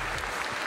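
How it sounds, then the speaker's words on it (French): Brief burst of crowd applause for Koa at the Aito Tu'aro 2023 awards evening, dense and steady clapping from a hall audience. "On peut applaudir Koa qui représente sa sœur ce soir."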